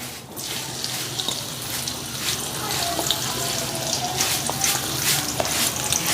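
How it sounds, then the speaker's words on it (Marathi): Chopped onion drops into hot oil in a pan for a Marathi kurdu leafy-vegetable dish, giving a steady close hiss and crackle of frying that holds for the whole stretch with no talk. "तेल तापलं आहे आपण याच्यात कांदा टाकून घेऊया"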